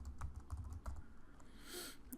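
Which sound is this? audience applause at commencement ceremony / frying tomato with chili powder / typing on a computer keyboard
typing on a computer keyboard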